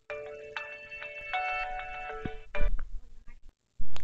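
A phone ringtone plays a bright electronic melody of repeated tones, close and fairly loud, then cuts off into brief handling noise and a short burst of sound.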